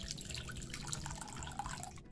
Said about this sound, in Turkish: Şimdi suyunu ilave edeceğim.